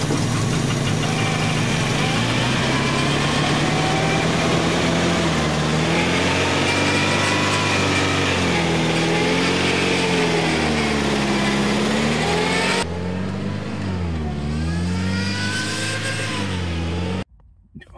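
A 1984 Datsun 4x4 engine held at high revs, loud and steady with a rough, knocking edge, the pitch shifting as the throttle varies, then cutting off abruptly near the end.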